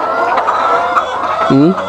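Hens clucking while being carried on a poultry farm, with a brief, close cluck near the end, heard under steady speech.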